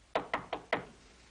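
Four firm knocks on a door, evenly spaced and close, ring out in a quiet room and then stop, leaving only faint background hiss.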